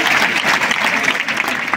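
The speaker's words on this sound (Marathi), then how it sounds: "सगळ्यांनी तिच्यासाठी टाळ्या वाजवल्या पाहिजे" An audience at a career guidance session for schoolgirls breaks into brief, lively applause, a dense patter of many clapping hands close by, with a voice faintly mixed in.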